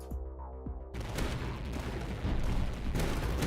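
Reaper Cannon tower firing in the tower defense game Tower Dominion: after a brief quieter lead-in, a loud barrage of rapid booming shots bursts in and keeps pounding, with renewed heavy volleys near the end.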